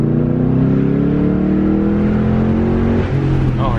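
A car fitted with an Eibach suspension kit revs as it downshifts, the engine note climbing and falling in a couple of smooth sweeps, loud and close from inside the cabin.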